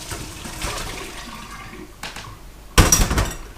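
Hot water from a pot of boiled potatoes is poured off into a sink, a sudden loud gush near the end after quieter kitchen handling sounds.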